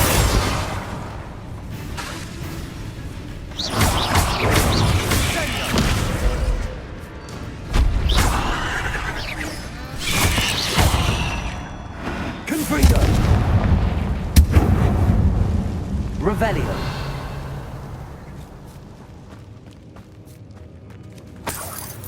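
Bombarda explosion spells in the video game Hogwarts Legacy, a run of loud booming blasts and crashing impacts in bursts with debris-like rumble between them, heavy and close, no speech over it.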